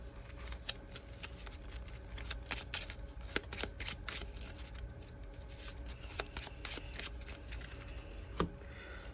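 Physical playing cards being shuffled by hand, a close, dense flurry of crisp riffling and flicking snaps that continues steadily throughout with no voices.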